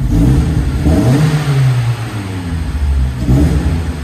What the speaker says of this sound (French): la sonorité du GDI 2 litres est vraiment superbe